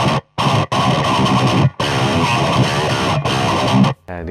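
Heavily distorted electric guitar chugging loud, dense chords through a booster pedal set to lift the mids around 720 Hz, modern djent-style tone, in bursts separated by short silences, close and with no talk.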